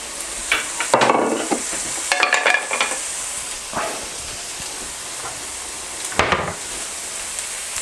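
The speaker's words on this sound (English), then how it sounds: "So we're just going to dump the onions in like this, and we're just going to cook them up." Chopped onions sizzle and hiss in a hot pan on the stove, with bursts of scraping as they are stirred and tossed, close and fairly loud over a steady frying background.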